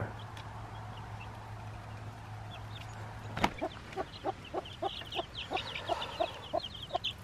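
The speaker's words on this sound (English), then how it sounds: "These three chicks are doing awesome." Young, nearly feathered chicks cluck in a farm pen, soft at first over a low hum, then a sharp knock followed by a string of rhythmic close peeps and clucks.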